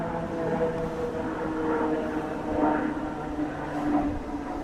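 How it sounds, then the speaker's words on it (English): A steady, rumbling drone of an aircraft passing overhead, swelling slightly and holding loud throughout with no voices. "Yet another noisy plane coming over."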